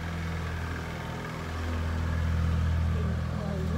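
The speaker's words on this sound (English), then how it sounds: "let me move around because there's a car coming" A small, noisy vehicle engine rumbles along a narrow street in a traditional village, its drone swelling louder as it draws near while a person talks over it.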